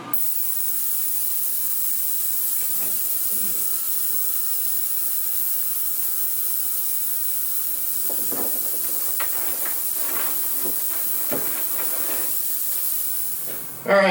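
An ultrasonic cleaner runs with a steady high hiss through the whole stretch, while faint clicks and small rattles sound from nearby handling.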